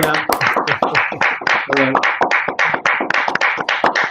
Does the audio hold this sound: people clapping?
yes